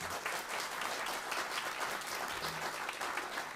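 Audience applause in a concert hall during a trio performance intermission, a steady wash of clapping at moderate distance, fairly quiet overall.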